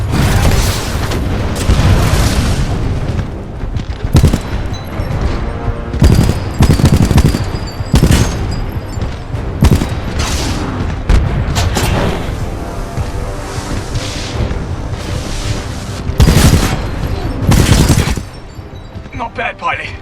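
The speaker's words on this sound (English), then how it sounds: "Taking fire." Automatic weapons chatter and heavy booms go off repeatedly in Titanfall 2 combat, loud bursts and blasts recurring in waves with short lulls between them, while voices talk over the fighting.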